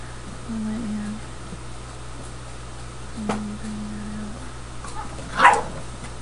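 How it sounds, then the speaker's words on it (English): Several house dogs make a few scattered sounds, a couple of short whining tones and one sharp bark near the end, fairly faint and indoors over a steady background hum. "You're going to hear my dog pack going crazy right now."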